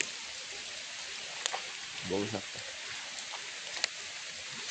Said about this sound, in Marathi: पाऊस बघा कसला खतरनाक लागतो